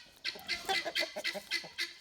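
Chickens in a chicken coop cluck in a quick, uneven series of short calls, several birds close by at moderate volume with no talk.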